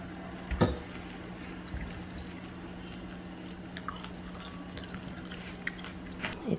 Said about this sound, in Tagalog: Sobrang crunchy talaga tong skin na to.